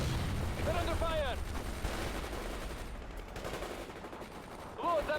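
Gunfire and machine gun bursts in the real-time strategy game World in Conflict: dense, continuous crackling small-arms and automatic fire at moderate distance, with brief bursts of radio-style voice chatter mixed in.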